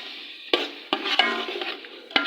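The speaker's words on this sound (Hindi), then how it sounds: "इनको थोड़ी देर के लिए हम भून लेंगे अच्छे तरीके से" Dry spices of red chilli, turmeric, salt, garam masala and coriander powder frying in a pan for a cauliflower and meat curry, a close sizzle broken by several sharp spoon scrapes and knocks.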